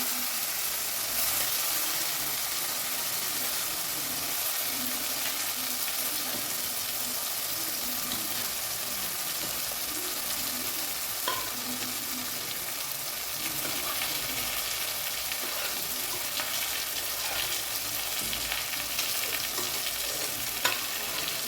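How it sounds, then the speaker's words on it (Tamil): Tomatoes frying in oil for drumstick sambar, a steady broadband sizzle lasting throughout with occasional soft scrapes of a spoon stirring the pan, no one speaking. "தக்காளி ஆயில் கொஞ்சம் ஃப்ரை ஆகுதுங்க"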